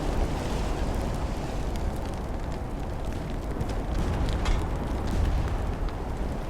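Torpedo hits on a heavy cruiser in the naval warfare game Ultimate Admiral: Dreadnoughts, a sustained, rumbling roar of explosions and deep booms, dense and continuous throughout.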